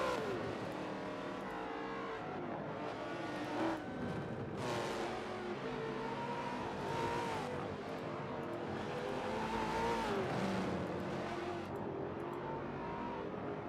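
Race cars circling the Indianapolis road circuit in a video game endurance race, engines droning steadily with rising and falling revs as cars pass close by, a continuous layered roar throughout.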